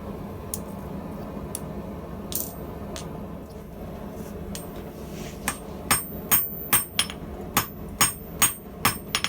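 A hand hammer strikes 300-series stainless steel on an anvil while forging a fork, scattered ringing blows at first that settle into a steady, loud rhythmic run of sharp metallic hits.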